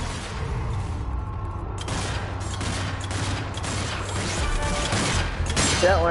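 Steady stream of gunfire aimed at a flamer zombie's red fuel tank in the co-op shooter Zombie Army 4, rapid overlapping shots with heavy low rumble and clanking mechanical sounds, growing busier toward the end.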